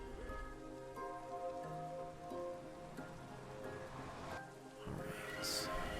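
Steady rain patters across surfaces in a Minecraft world, a dense continuous hiss filling the scene from start to finish, with a brief louder swell near the end.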